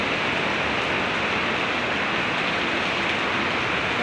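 Heavy rain pours down steadily outdoors, a dense, constant roar of water with no break, loud and close, and no voices over it.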